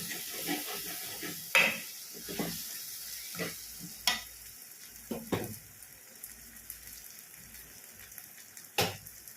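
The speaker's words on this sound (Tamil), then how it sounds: "காய் வந்ததும் இப்போ நம்ம இறா போட்டுடலாம்." Prawns and vegetables fry in a pan for a prawn curry, a soft continuous sizzle punctuated by sharp clinks of a stirring spoon against the pan at irregular intervals.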